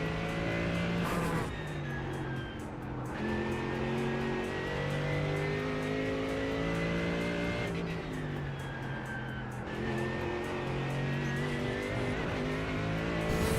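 A BMW race car lapping the Nurburgring in a 24-hour racing game, its engine howling loud and close with rising pitch through the gears, brief drops at shifts and faint tire scrub, continuous throughout.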